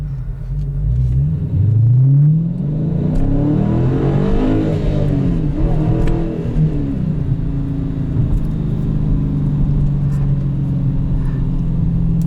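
The 392 V8 engine of a 2019 Dodge Challenger Scat Pack T/A revs up with a deep throaty roar, then settles into a loud rumbling idle nearby.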